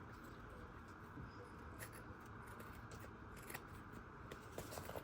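Scissors snipping and handling during handbag making, a steady run of soft, close, crisp cuts and clicks over low background rumble, with no talk.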